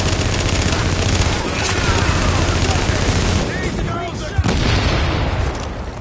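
Grenade blast in the shooter The Division, a heavy boom amid dense continuous gunfire and bursts, loud and close, with voices calling out over the battle.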